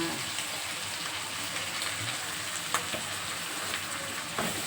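Pad see ew noodles stir-fried with oyster sauce, a loud steady sizzle with spatula scrapes and occasional sharp taps against the pan, close up and continuous with no voice over it.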